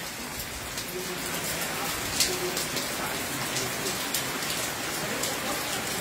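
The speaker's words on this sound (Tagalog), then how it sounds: "pumapatak pa rin ang malakas na ulan at puno na rin itong mga timba at batya ng tubig" Heavy rain pours steadily into full buckets and basins, a dense, constant hiss and patter with occasional louder drips. It stays even and close throughout, with faint voices in the background.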